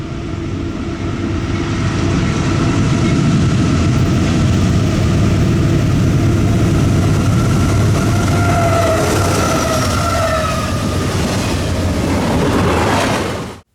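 A train rumbles past a camcorder set low on a tripod, a loud, sustained roar of wheels and engine filling the whole stretch before cutting off abruptly at the end.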